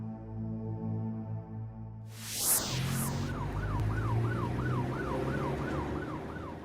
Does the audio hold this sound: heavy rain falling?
no